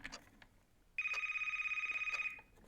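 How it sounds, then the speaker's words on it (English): A telephone gives one sustained electronic trilling ring of over a second, bright and fairly close, after a few faint clicks, then fades back to quiet. "Nope, phone's ringing."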